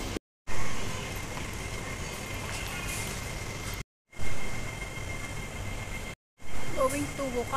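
A metro train rolls alongside the platform on the way to Whampoa with a broad, rumbling wash of wheel and motor noise, broken by brief gaps, while a voice talks at points.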